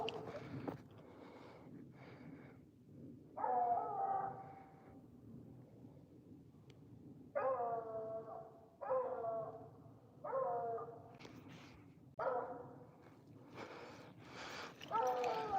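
A hunting dog treeing its quarry gives bursts of barks and yips from a moderate distance, coming in irregular groups separated by quieter gaps outdoors.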